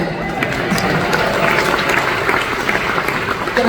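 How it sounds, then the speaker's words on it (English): An audience claps at a rock and roll hall of fame induction, steady mid-level applause with some crowd murmur and faint voices mixed in. "So you guys really need to give your own self a clap of hand."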